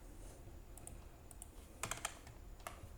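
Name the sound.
typing code on a computer keyboard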